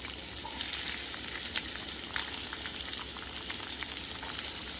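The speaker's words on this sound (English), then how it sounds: "these onions are getting cooked with oil and the seasonings" Chopped onions fry in hot oil with cumin, mustard seeds and whole red chilies, giving a dense, even sizzle with small crackles and pops running throughout, close by and steady.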